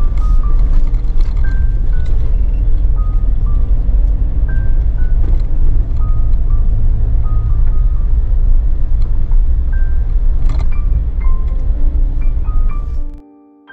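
Suzuki Jimny engine labouring loudly and steadily in second gear up a steep off-road slope, a continuous low rumble with some faint whines over it, then cutting off abruptly at the end.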